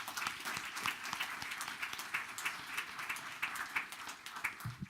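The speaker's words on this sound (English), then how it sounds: "let's give them a round of applause again" A township meeting crowd applauds a baseball team with steady, moderately distant clapping that carries on for several seconds without pause.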